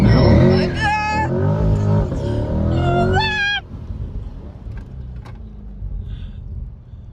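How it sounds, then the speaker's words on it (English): A 2022 Corvette C8 Stingray launches hard in track mode, its engine revving loudly with rising pitch sweeps, then settling into a lower rumble of acceleration, with an excited voice shouting over it. "we're going to launch the car in track mode"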